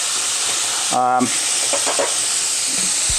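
Calamari and shrimp sizzle in a deep fryer with a steady, close hiss of bubbling oil, broken by a brief tonal hum partway through.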